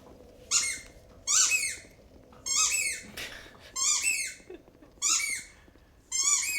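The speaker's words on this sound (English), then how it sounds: "Sometimes he squeezes the thing and it's squeaking" A dog squeezes a squeaky toy, producing about six sharp, high squeaks in a steady rhythm. The squeaks are loud and close, with quiet gaps between them and no talking.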